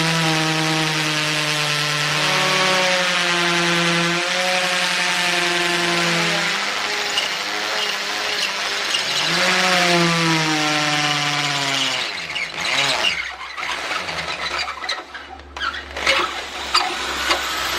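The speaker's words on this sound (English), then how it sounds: "just keep drilling, and it should start to break up then" A loud, steady power drill grinds through material on a car for about twelve seconds, its pitch sliding up and down, then breaks into rougher, choppier bursts.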